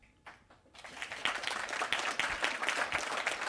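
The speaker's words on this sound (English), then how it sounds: "applause is appropriate" An audience at a city's State of the City address breaks into applause, starting with a few scattered claps and swelling into steady, moderately distant clapping from a crowd.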